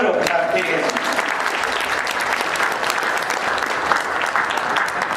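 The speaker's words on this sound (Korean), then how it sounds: "이 모두를 위해서 뜨겁게 박수로 부탁드리겠습니다" Sustained applause from a large audience at a regional peace and unification gathering in Incheon, a steady wash of many clapping hands that holds evenly for several seconds with voices mixed in beneath.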